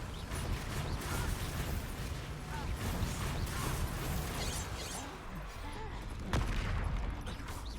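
Bombarda spell combat in Hogwarts Legacy, with dense overlapping blasts, crashes and magical impacts in a continuous loud barrage and one sharp burst near the end, over faint game music.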